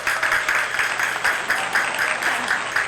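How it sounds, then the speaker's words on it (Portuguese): A small studio audience claps steadily for a guest's arrival, an even patter of hand claps holding at moderate loudness throughout. "Palmas!"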